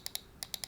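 Five crisp clicks of the DPI shifter button on an Armaggedon Raven 3 mouse, two together, a short gap, then three more, close up and quiet, with no voices.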